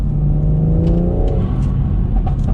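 A car engine revs hard from inside the cabin, the loud rising drone climbing in pitch and then easing off, with intake noise over a constant low rumble.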